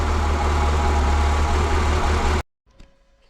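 A Renault Clio 182, fresh from a new timing belt and Group N timing, runs loud and close with a dense, steady engine roar, then cuts off abruptly, leaving near silence and a faint clunk.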